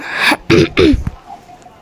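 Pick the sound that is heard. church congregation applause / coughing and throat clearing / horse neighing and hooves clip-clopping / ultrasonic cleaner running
coughing and throat clearing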